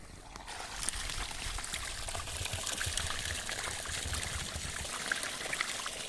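Water gushes steadily from a borewell pump outlet in a village, a broadband continuous rushing and splashing that stays fairly loud and even throughout, with no talk.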